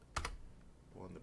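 Keys clack on a computer keyboard while scripting in Roblox Studio, a couple of quick close taps followed by a brief murmur of voice.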